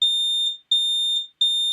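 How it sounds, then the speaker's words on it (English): A kitchen smoke alarm sounds three loud, shrill high-pitched beeps in a regular rhythm during cooking, each about half a second long with brief gaps between. "The alarm goes off."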